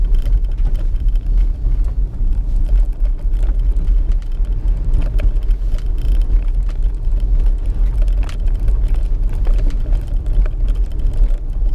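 Car rolling along a rough, bumpy street, with a steady low engine and road rumble running close and continuous throughout, scattered knocks and jolts from the uneven surface.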